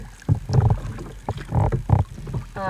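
Small boat being paddled up beside a 32-foot Gulf 32 sailboat with a pilot house, uneven paddle strokes and water splashes coming in several close bursts, with light wind noise.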